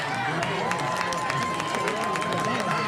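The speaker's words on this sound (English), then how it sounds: "you can kind of feel this crowd getting back into it here" A football crowd at a high school game cheers and murmurs steadily, with a broad wash of crowd noise and scattered claps under a commentator's talk.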